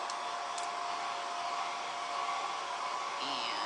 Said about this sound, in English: I'm just hitting this with the blow dryer to help it along with the drying.